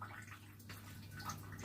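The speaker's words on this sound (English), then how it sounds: "That drippy water is annoying." Water drips and trickles faintly in a home kitchen, a soft, quiet running patter with a low steady hum underneath and no talking.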